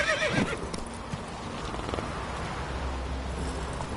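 Roach, a horse in The Witcher video game, lets out a whinnying neigh near the start, followed by steady clip-clopping hooves over an ambient game background, with no talk.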